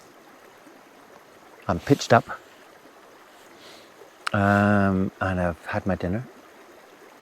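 Big Sheep Creek flows as a steady, soft rush of water in the background at a dispersed campground, running throughout while someone talks over it in short bursts.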